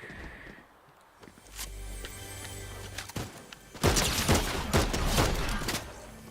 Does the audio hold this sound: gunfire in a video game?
yes